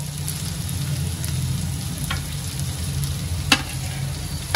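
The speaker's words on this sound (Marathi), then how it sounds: "कांदा चांगला फ्राय करून घेते मी तेलावर।" Onion frying in oil in a pan for a Maharashtrian pithla dish, a steady soft sizzle with a low hum underneath and a couple of sharp clicks or taps near the end.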